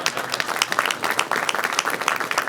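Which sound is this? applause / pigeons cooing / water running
applause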